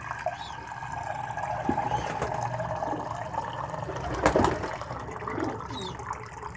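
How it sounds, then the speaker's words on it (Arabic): Water is poured into a pigeon drinker, a running, trickling flow with splashing and a brief louder gush near the middle, close and moderately quiet, and a voice speaks faintly underneath. "نكمل عليه المية."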